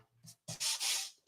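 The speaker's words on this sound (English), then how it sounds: "I don't risk running across it with sandpaper as I'm going this way" Sandpaper rubbed by hand across a tank surface makes a few short scratchy strokes, then one longer, loud, raspy sanding pass, heard close up with no talking.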